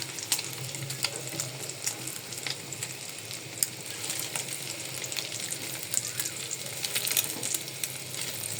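Hot oil sizzling and spitting in a frying pan, a continuous crackling hiss with scattered sharp pops throughout, close and fairly quiet, no voices.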